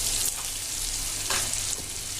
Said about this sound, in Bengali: আদা রসুন আমরা ভালো করে ভেজে নেব।